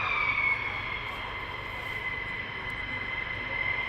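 Military jet aircraft taxiing at RAF Lakenheath airbase, a steady distant whining turbine drone with a sustained high tone, heard from afar without speech.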